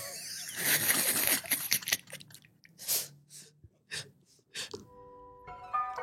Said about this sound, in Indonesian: kaget gue ada suara bersin tiba-tiba